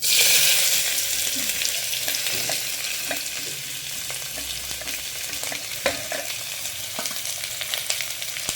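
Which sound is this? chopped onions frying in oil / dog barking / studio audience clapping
chopped onions frying in oil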